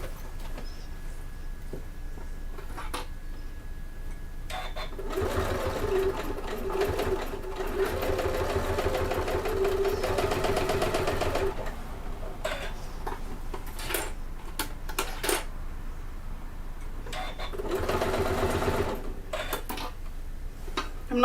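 A sewing machine stitches around a mitered corner of a fabric bag, running in a steady close whir for several seconds, pausing to pivot, then starting again in short bursts.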